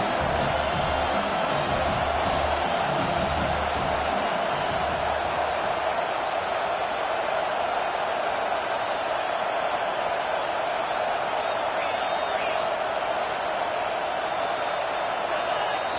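A college football stadium crowd roars steadily in a Vanderbilt vs South Carolina game, a dense sustained wall of cheering and noise that holds at an even level throughout with no clear gaps.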